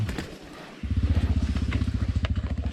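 A Honda MSX motorcycle climbing uphill on a dirt trail, its small engine kicking in and settling into a loud, rapid, pulsing exhaust beat that continues steadily close by.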